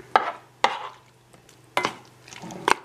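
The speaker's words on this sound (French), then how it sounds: "Je mélange le tout." Poached pear cubes being stirred into almond cream in a bowl: four sharp, separate knocks and scrapes of the utensil against the bowl, close and fairly quiet, with a faint low hum between them.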